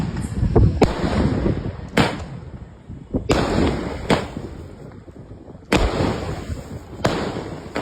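Sun Crackers 30-shot firecracker cake going off outdoors, a series of sharp, loud bangs in irregular bursts, each blast followed by crackling and rumbling decay, with wind noise on the microphone.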